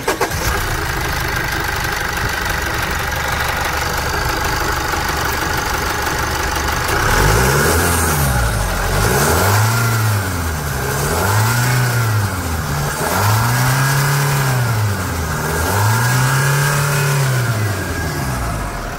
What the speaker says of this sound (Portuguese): Motor a diesel tem um barulho sensacional, né?